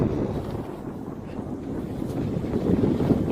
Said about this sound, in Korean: 어우 바람 엄청 분다